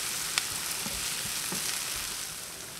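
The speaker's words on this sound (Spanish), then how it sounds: "Agregamos media cebolla cortada en trocitos pequeños. Freímos por un minuto." Chopped onion fries in olive oil in a pan with a steady, moderate sizzle. A few faint clicks and taps are heard under it.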